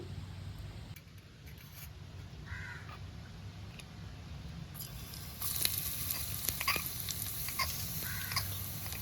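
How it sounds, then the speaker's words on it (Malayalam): Onion frying in boiling oil in a miniature Maggi cooking setup: a steady soft sizzle with a steady low hum underneath, the sizzle growing louder and crackling more after about five seconds. "എണ്ണ ഇവിടെ തിളച്ച് വന്നേക്കുവാണ്. നമുക്കടുത്ത് ഇതിൻ്റെ ഉള്ളി ഇടാം"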